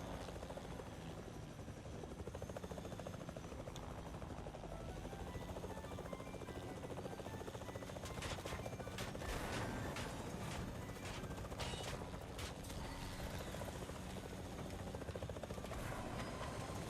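Helicopter in the video game Fortnite, its rotor a steady, close whirring drone throughout with mechanical clanks and rattles layered over it, heard alone without talk.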